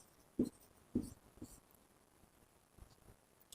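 Chalk or marker writes on a classroom board during a maths lesson. The strokes are faint, short taps and scrapes, a few in quick succession and then sparser ones, with no voice.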